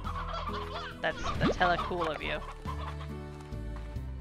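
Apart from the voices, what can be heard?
chicken clucking in a video game (Slime Rancher)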